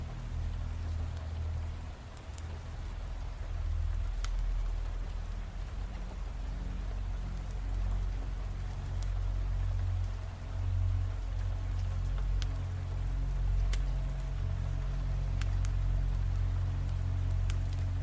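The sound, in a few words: rain sounds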